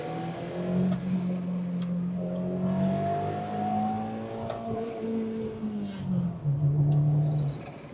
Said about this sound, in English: got that little turbo spool right there